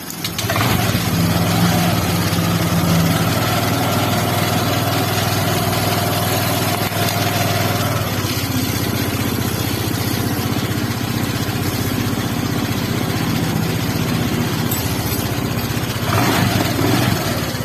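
A Honda Vario 125 scooter engine, just fitted with a new water pump, runs at a steady idle throughout, loud and close with an even mechanical drone and no breaks.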